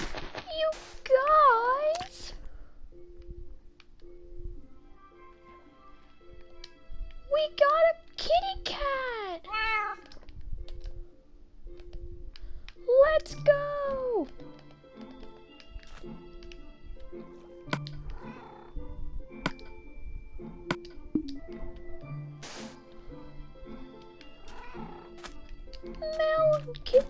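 Cat meows from the video game Minecraft, several rising-and-falling calls in separate bursts over a quiet game backdrop, with a young player's voice talking at times between them.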